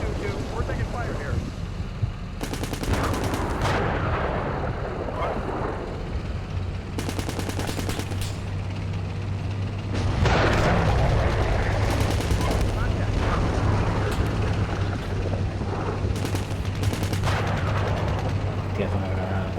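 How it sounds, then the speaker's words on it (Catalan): Gunfire in the Steel Beasts Pro tank simulator game, with repeated bursts of sharp shots and heavy booms over a low rumbling engine drone, mixed with voices talking. "We're taking fire here."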